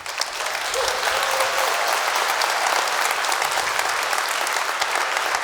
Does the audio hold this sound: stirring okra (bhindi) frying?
no